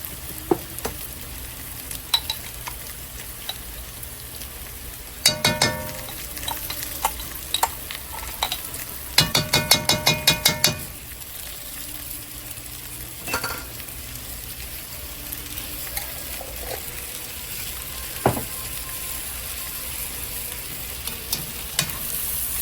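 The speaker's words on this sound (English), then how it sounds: "now we're going to add our 2 tablespoons of minced garlic" Minced garlic, two tablespoons, sizzles in a hot pot of healthy cheeseburger soup base, with a steady frying hiss broken by scraping, clinking spoon strokes in short bursts, loudest near the middle.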